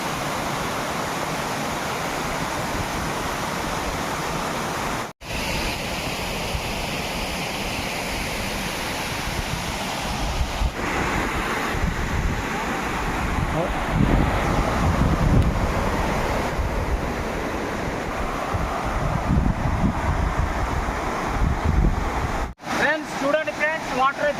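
A large waterfall pours down from the hills in the Araku valley, a steady, dense roar of rushing water, loud and close, buffeted by wind across the microphone, with a couple of brief dropouts.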